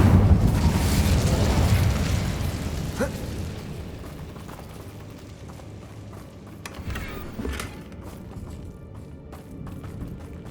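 Incendio fire spell in the video game Hogwarts Legacy: a loud roaring burst of flame that fades over a few seconds into a low crackling rumble, followed by scattered faint thuds and clicks.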